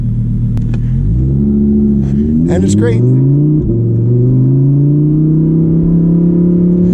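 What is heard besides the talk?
Lamborghini Huracan Evo engine driving, very loud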